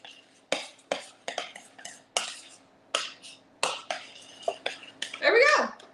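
A small spoon stirs chocolate chips into banana bread batter, giving a series of sharp clinks and scrapes against the bowl in an uneven rhythm, close and clear.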